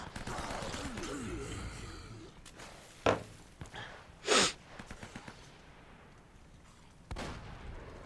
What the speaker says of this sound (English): I can hear plenty of mercenaries shooting at descendants, so I'm just letting them fight it out